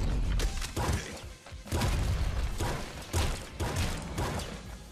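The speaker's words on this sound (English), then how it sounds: "I like the explosion sound. Boom!" Explosions in the video game Nuclear Throne, loud booming blasts with crunching debris, coming in several heavy bursts over continuous game noise.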